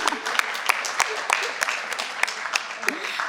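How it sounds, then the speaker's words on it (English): Audience at a school board meeting applauds, a steady wash of clapping with sharper individual claps popping through, moderately loud throughout. "Can we get a round of applause for that video?"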